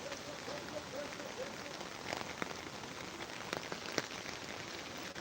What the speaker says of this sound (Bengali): আবার বৃষ্টি আসতে শুরু করেছে